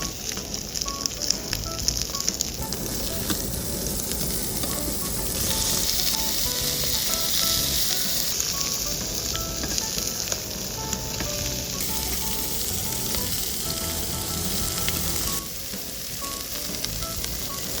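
Pork and mushrooms sizzle over a charcoal grill, a steady dense crackle that stays close and continuous, with occasional pops and faint scraping.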